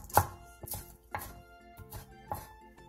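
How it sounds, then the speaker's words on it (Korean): Green onion is sliced diagonally with a knife on a cutting board, giving four or five soft, close chops at a steady, unhurried pace with no one talking. "대파 3분의 1개를 어슷 썰게 해주세요."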